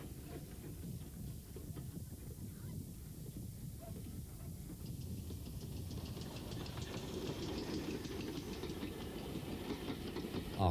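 A steam train hauled by a pannier tank locomotive runs along a seaside railway, its wheels clattering rhythmically over the rails, faint at first and growing gradually louder as it approaches.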